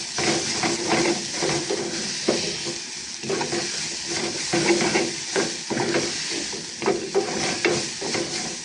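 Soya pieces being stirred and mixed in a sizzling pan, a steady frying hiss with repeated scraping strokes of the spoon against the pan, close and continuous.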